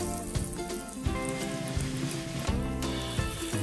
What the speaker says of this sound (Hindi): अब मैं इसमें एक एक करके पिज्ज़ा कटलेट्स डालती जाऊँगी